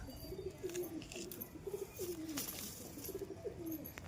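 A mated pair of pigeons coo in repeated low, burbling phrases, faint and slightly distant, with no voices over them.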